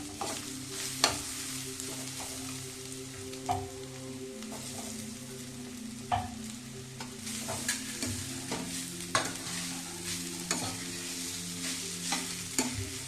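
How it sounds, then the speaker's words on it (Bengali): Grated mango ginger stir-frying in hot oil for a pickle, a steady sizzle with repeated sharp scrapes and clacks of the stirring utensil against the pan throughout, close and alone with no voices. "এবার আমি গ্রেট করা আম আদাটা দিয়ে দেবো এর মধ্যে"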